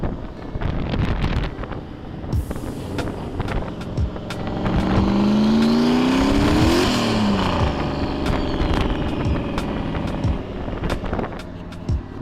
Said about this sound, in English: you probably can't hear any of that because the wind noise is so bad